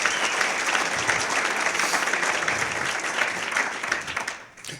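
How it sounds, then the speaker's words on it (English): A crowd applauds steadily at a live lecture, a dense wash of clapping that holds strong before fading out at the end. "a round of applause for him for the enormous work"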